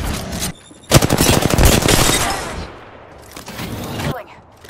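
Gunfire in Apex Legends: a short blast, then a sustained, dense volley of rapid automatic shots that fades into quieter battle noise before another brief burst, with a voice heard among the shooting.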